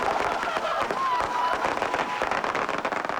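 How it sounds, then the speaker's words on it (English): A rapid, crackling burst of firecrackers thrown into the middle of a crowd of about 80 protesters at a San Antonio College protest, sharp dense pops going continuously, with voices and crowd noise mixed in. "Someone among the spectators of that protest threw firecrackers right in the middle of the crowd of about 80 protesters."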